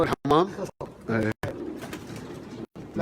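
Racing pigeons coo in short, soft, throaty bursts separated by brief silences, with a voice talking alongside them.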